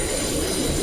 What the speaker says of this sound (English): See, the train is rumbling.